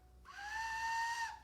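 A small wooden Star Wars whistle blown once, a clear steady high tone lasting about a second, close and alone.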